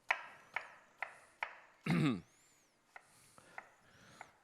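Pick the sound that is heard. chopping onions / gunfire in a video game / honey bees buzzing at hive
chopping onions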